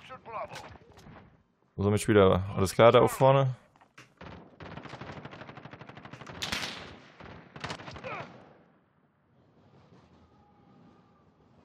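Gunfire crackles in Call of Duty Modern Warfare, a few dense bursts from behind the player over roughly two seconds, loud against the quieter game background, with someone commenting in German before and after.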